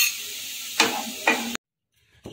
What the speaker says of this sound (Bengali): আমি অল্প অল্প করে দেবো আর নাড়বো।